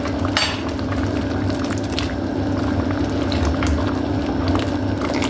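White corn simmers with water in a pan for Filipino sautéed corn with bitter melon leaves, giving a steady close bubbling and sizzling with faint stirring clicks throughout.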